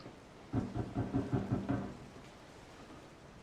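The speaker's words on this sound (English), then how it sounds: "Thunderclap." A rumbling thunderclap rolls through in Resident Evil 7, a burst of low pulsing rumbles that swells for about a second and a half and then fades into quiet ambience.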